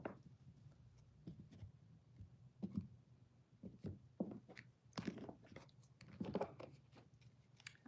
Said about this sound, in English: Focus on the deck as I'm shuffling.